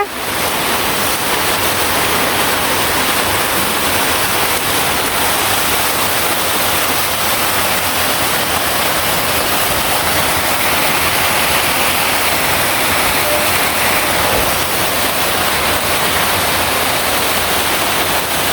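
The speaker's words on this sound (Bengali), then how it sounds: "দেখেন বৃষ্টি নামছে।" Rain falling in a Bangladeshi village, making a loud, dense, unbroken wash of noise that stays steady from start to finish.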